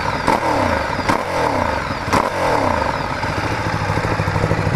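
A 2014 Ducati Streetfighter 848 motorcycle engine revved repeatedly from idle, several sharp throttle blips rising and falling in a loud, close rhythm with mechanical clatter underneath.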